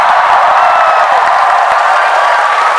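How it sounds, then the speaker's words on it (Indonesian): A large crowd at a Sumatera Selatan presidential campaign rally applauds and cheers, a loud, dense wash of clapping and voices that holds steady throughout. "Tepuk tangan untuk Sumatera Selatan."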